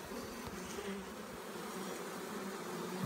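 A honeybee swarm buzzing steadily around a hive box outdoors, a dense continuous hum close to the microphone with no voices.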